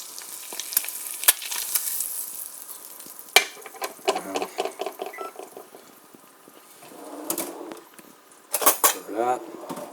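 An egg fries in a pan for a burger-sauce egg sandwich, giving a faint steady sizzle broken by sharp clinks and scraping from a utensil, with some louder clattering bursts near the end.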